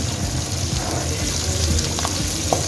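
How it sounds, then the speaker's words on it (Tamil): Small shallots and garlic sizzle in a hot pan, a dense, even crackle close by with a few faint stirring knocks near the end. "இதிலையே நம்ம இந்த சாம்பார் வெங்காயத்தையும் போட்டுவோம்"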